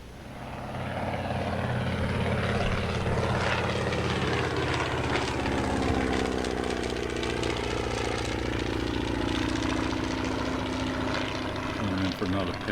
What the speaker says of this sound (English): So here I am coming in for my first pass.